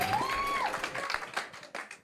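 A comedy club crowd claps, scattered and uneven, with individual hand strikes standing out as the clapping thins and tails off. A tone sweeps briefly near the start.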